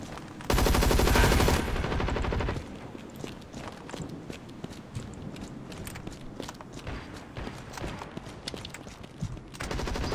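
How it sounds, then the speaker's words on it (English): Rapid gunfire from a Gatling gun in a zombies-and-robots shooter game opens with a loud, dense burst, followed by a long run of quieter scattered shots, clanks and footsteps. "I got a fucking Gatling gun."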